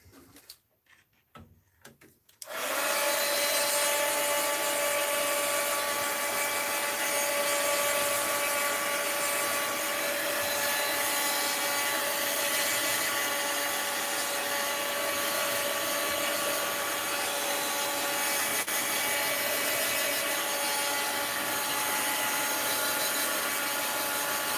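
A few light clatters of handling, then a heat tool drying an art journal page switches on and blows with a loud, steady roar for over twenty seconds, unbroken and close, with no talking.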